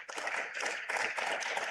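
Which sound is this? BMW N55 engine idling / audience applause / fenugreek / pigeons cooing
audience applause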